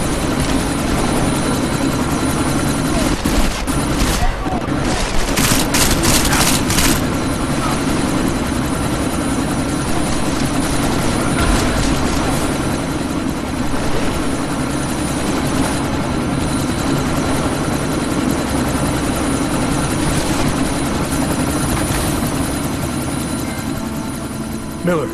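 A helicopter in Deus Ex: Mankind Divided keeps up a loud, continuous rotor roar throughout, with some sharper bursts of noise partway through and no break in the engine drone.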